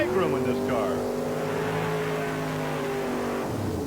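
A rear-engine dragster from Vero Beach, Florida, runs at a 1991 mud race in Franklin, Georgia, its engine a loud, sustained droning whine heard from a distance, tapering off near the end, with an announcer talking over it.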